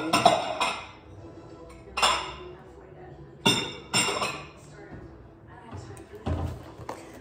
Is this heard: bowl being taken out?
yes